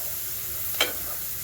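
Mushrooms and onions in butter frying in a pan for beef stroganoff, with a steady soft sizzle and one brief scrape of stirring midway.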